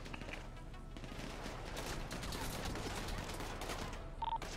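A gas-station shootout in the GTA V NoPixel video game, with dense, continuous bursts of gunfire that sound near and loud and run without a break, and faint voices underneath.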